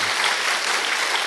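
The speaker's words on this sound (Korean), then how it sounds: "여러분 크게 박수 한번 해주세요." A church congregation claps together in a dense, even burst of applause that fills the short moment without any talking.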